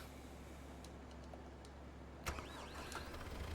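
A tractor engine in Farming Simulator 22 starts with a sudden loud crank, then settles into a steady low rumble over continuous background engine drone.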